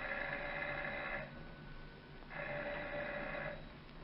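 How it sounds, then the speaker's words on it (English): Doorbell ringing on a front porch as a radio drama sound effect, with two separate bursts of a thin, rattling electric bell, each about a second long with a pause between. "ringing the doorbell."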